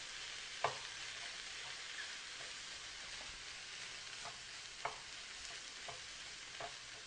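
Tilapia and peas fry quietly together in a pan, a steady soft sizzle broken by a few brief clicks and scrapes of stirring.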